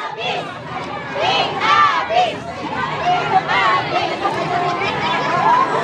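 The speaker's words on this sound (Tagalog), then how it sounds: "maririnig natin ang hiyawan at sigawan ng kanilang mga taga-suporta" Supporters shout and cheer at an outdoor campaign rally on the final day of campaigning, with dense crowd chatter and rising yells throughout, loud and sustained.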